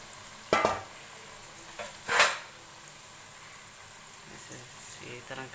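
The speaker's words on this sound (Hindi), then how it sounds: "ऑयल हमारा गर्म हो गया, अब हम इसके अंदर चिकन डालते हैं और इसे फ्राई कर लेते हैं।" Chicken pieces fry in hot oil with a faint, steady sizzle. A few sharp clinks of stirring or utensils against the pan stand out above it.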